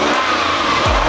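A Lexus LS400 engine idles loudly, then revs sharply near the end with a rising roar, close by.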